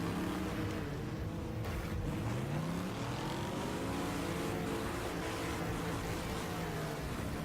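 Racing car engines in the demolition-derby game Wreckfest drone and rev continuously, several motors rising and falling in pitch as they accelerate together, a steady mechanical roar with no voices over it.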